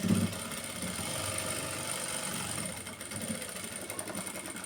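A sewing machine runs steadily, stitching a designer blouse with a continuous, fast, even mechanical whir that holds for the whole stretch, close and fairly loud.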